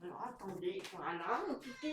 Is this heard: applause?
no